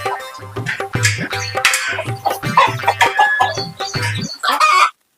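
Chickens cluck loudly and repeatedly at close range in an irregular, busy rhythm, with a rooster crowing among them before the sound cuts off abruptly.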